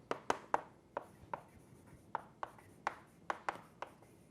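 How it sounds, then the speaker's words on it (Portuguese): Chalk or marker taps and strokes on a board as a theorem is written out, a dozen or so crisp, irregular clicks and short scrapes, close and fairly quiet with no talk. "Vamos escrever aqui, ó."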